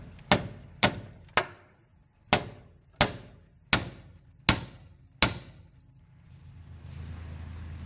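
Eight sharp metal-on-metal hammer blows, loud and close, beat at a dent in damaged loader metal. They fall at a steady, slightly uneven rhythm, each with a ringing decay, followed by a low rumbling hum.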